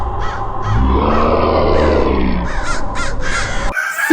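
Cartoon crow in a Hindi children's jungle story, loud repeated harsh caws in a quick series of short calls over a low rumbling background, no speech.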